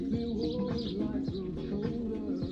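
Morning birdsong outside, with repeated chirps and tweets recurring every half second or so over steady ambient noise; no voices present.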